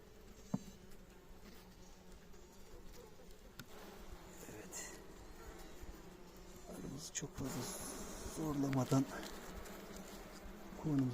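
Honeybees hum steadily at the hive during a hive change, a thin, continuous drone of warning buzzes, with a few louder passes near the end and faint background noise.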